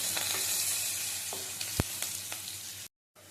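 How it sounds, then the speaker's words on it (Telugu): A tempering of green chillies, turmeric and curry leaves fries in oil for a potato curry, a close, continuous hissing sizzle broken by a few sharp stirring clicks and one loud knock. "ఎర్రగా వేయించుకోవాలండి పోపుని."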